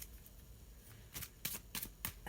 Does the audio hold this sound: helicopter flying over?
no